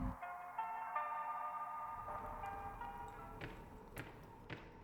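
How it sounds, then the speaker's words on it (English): A phone rings in the Crow Country game, a steady electronic tone in the first two seconds, then gives way to hollow thumps and taps, faint against a quiet background. "I hear a phone ringing. It's ringing."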